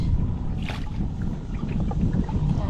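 A kayak crosses a lake under a constant low rumble of wind and water, with soft paddle splashes and creaks faintly audible on top.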